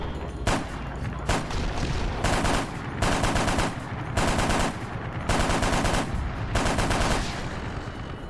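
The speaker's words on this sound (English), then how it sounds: "Out of rockets, now I got to use this gun." Automatic gunfire from a gun in Arma 3, Warhammer 40k desert battle against Leman Russ tanks: loud, close repeated bursts of rapid shots separated by short pauses, about seven bursts in a row.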